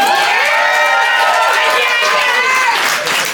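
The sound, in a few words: audience applause and cheering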